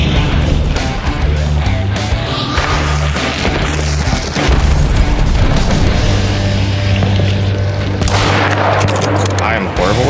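Gunfire in the video game Hunt: Showdown: loud, heavy shots and booming blasts crack repeatedly over about ten seconds, with some speech mixed in.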